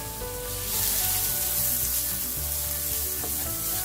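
Onions fry and caramelize in a hot pan, giving a loud, continuous hiss and crackle that swells slightly and holds steady throughout, with no voices over it.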